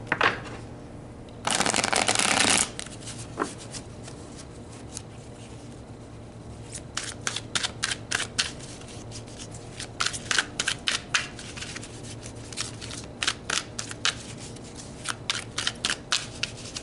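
Tarot cards shuffled for a reading: a dense burst of riffling early on, then a long run of quick, crisp card snaps and flicks in irregular clusters, close and fairly quiet, with no talk.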